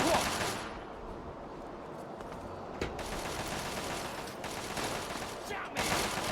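Sustained gunfire in Fallout 3, a steady crackling volley at moderate distance with a couple of sharper shots, under faint talk.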